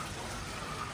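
Splashing fountains and waterfalls in the grounds of a luxury hotel in Ubud, Bali, a dense, steady rush of falling water filling the moment with no voices.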